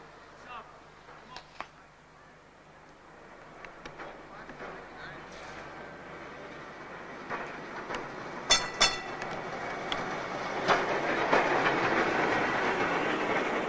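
A Summerlee heritage tram runs on rails with a steady rolling rumble that builds over time, sharp wheel clicks and squeals coming through, and a voice talking over it.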